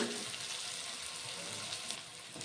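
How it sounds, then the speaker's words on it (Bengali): Chopped onions fry in a pan for a fish curry, a faint, even sizzle with soft stirring scrapes and no voice. "নাড়াচাড়া করে 2 মিনিট মতন পেঁয়াজ ভেজে নেব"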